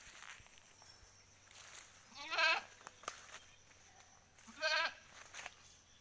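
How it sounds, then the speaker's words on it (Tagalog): A goat that has been out in the hot sun, heard as two close, loud bleats a couple of seconds apart over quiet outdoor background noise, with no talking. "hinihingal na po yung kambing namin mga katotski kasi nabilad sa araw"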